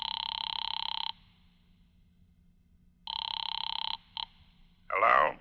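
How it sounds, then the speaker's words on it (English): A telephone bell rings in a vintage detective radio drama, two long loud rings separated by a pause with a short clipped burst after, then a brief voice-like sound at the end. "I went to a phone booth and called my client, Fred Lane."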